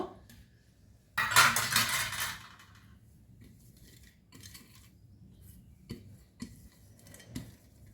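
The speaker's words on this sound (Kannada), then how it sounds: "ಎಲ್ಲ ತಟ್ಟೆಗೆ ತೆಂಗಿನೆಣ್ಣೆ ಗ್ರೀಸ್ ಮಾಡ್ತೇನೆ" Metal idli plates being greased with coconut oil give a short burst of scraping and rubbing, then scattered soft clinks and taps of metal on metal, quiet and close, with no talk.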